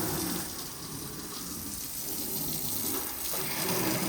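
Steady hiss of water from a hose spraying and splashing onto a car, continuous and fairly close, with no voices.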